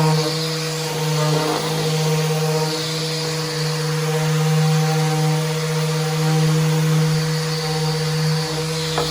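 A power sander works over scrap wood in a workshop with a steady, loud motor hum and abrasive rasp that holds unbroken for about nine seconds, with no voices.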